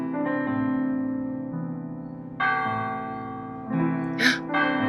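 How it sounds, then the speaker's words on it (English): Church bells ring out to call mass in the video game The Last Door, a sustained, resonant tolling with overlapping tones and two fresh strikes partway through. "The bells of the church. It seems the priest is calling mass."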